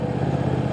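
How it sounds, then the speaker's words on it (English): A Triumph TFC motorcycle exhaust burbles on the overrun, a brief loud, close, throbbing rumble with fast uneven pulsing. "it's just cracks and pops and burbles perfectly"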